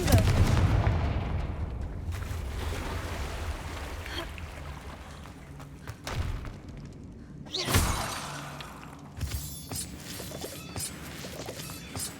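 Confringo fire spell blasts in the Hogwarts Legacy video game, a run of loud booming explosions and crackling bursts with a sharp crash near the middle, over a constant low rumble of game sound.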